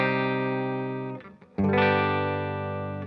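Two sustained, distorted electric guitar chords ring out one after the other, a major chord moving to a minor four chord, with a brief gap as the second is struck and left to sustain.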